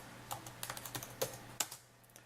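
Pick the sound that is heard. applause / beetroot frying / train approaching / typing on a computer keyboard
typing on a computer keyboard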